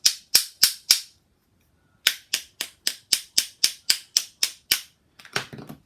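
Sharp knocks on a hard sanding disc made in Germany by Universal Plantex, a burst of four quick raps, a pause, then a steady run of about ten evenly spaced knocks, close and crisp, ending in a brief rattle.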